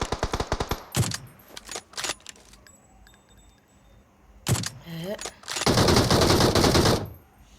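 Gunfire from an M24 sniper rifle in a video game: loud, sharp shots and bursts ring out, including a rapid volley at the start and a long dense stretch near the end, with a voice briefly heard between.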